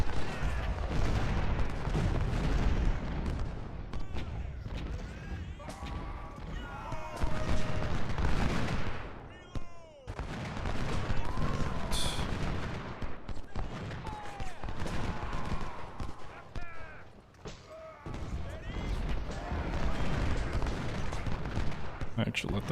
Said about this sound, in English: We'll let them fire 1 more volley and then we're going to pull them back.